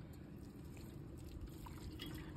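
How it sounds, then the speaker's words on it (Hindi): Water splashes and runs steadily over car window glass that has been rubbed with potato, a continuous close wash of liquid with faint dripping on top. "तो अब पानी डाल के देख लेते हैं।"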